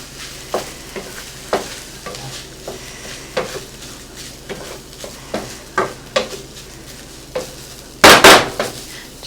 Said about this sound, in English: Go around a couple of times on the pan with the soy sauce. I'll stir this up real quick.